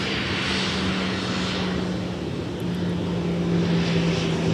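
A Sun Country airliner taxis at Minneapolis–St. Paul Airport, its engines making a steady, fairly loud drone with a low hum throughout, close by and with no talk.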